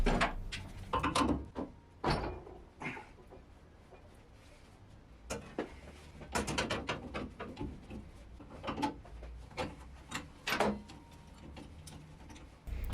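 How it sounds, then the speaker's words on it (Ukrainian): Pipe wrench unscrewing the valve from an old fire extinguisher cylinder being converted into a semi-automatic welder gas bottle, giving scattered close metallic clicks, knocks and scrapes between quiet gaps, with no talking. "Беремо газовий ключ та скручуємо вентиль"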